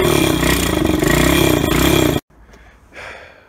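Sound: 125cc Chinese motorcycle engine running after starting

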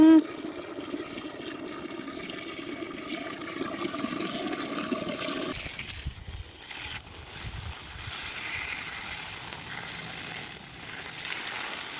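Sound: water filling a basin

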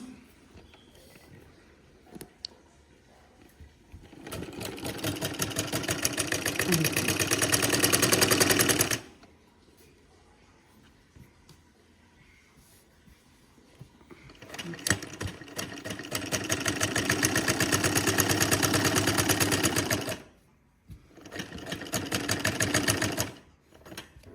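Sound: sewing machine stitching glove fabric

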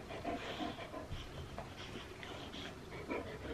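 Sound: dog panting

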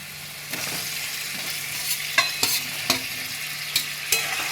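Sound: stirring fried potatoes into spices in a pan

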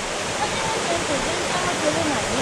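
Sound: waterfall at Yahagi Falls

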